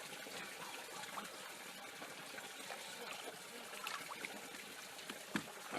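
Clear water drains out of an old tank during the renovation of a 90-year-old Lister engine, a steady soft trickle and pour at close range, with no talk.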